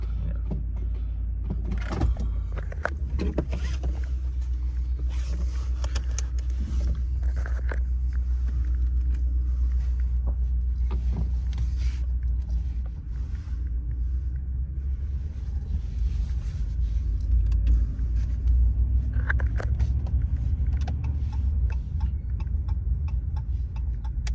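A Ram 1500 pickup truck drives along, giving a steady low rumble of engine and road noise from inside the cab, with scattered small clicks and ticks.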